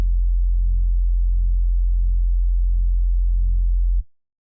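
Synth sub bass in a drum and bass track, a single deep sustained tone holding steady with a subtle wobbling FM movement for about four seconds, then cutting off abruptly.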